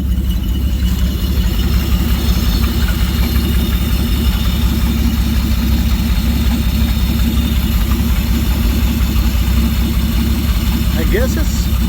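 A 1946 Plymouth engine, restarted after sitting six years, idling steadily close by with a constant low throbbing rumble and mechanical vibration throughout.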